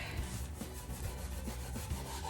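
Steady abrasive rubbing of sandpaper scuffing a hard surface before priming, continuous scratchy strokes at close range with no talking.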